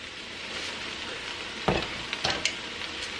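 Onion, garlic and celery sizzle softly in a soup pot for vegetable beef soup, with a low steady frying hiss broken by a few brief scraping stirs of a utensil near the end.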